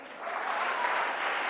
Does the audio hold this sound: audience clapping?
yes